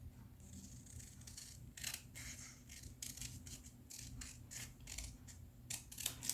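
Fabric scissors snip through bag pattern pieces for a handmade mirror bag, a series of crisp, irregular cuts over a low steady room hum, close and fairly quiet.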